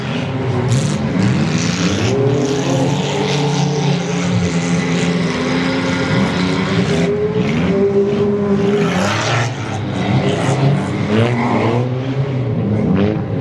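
Demolition derby cars at a dirt track event in Ludington, Michigan, with loud roaring engines revving and surging continuously, some thuds and scrapes, no talk.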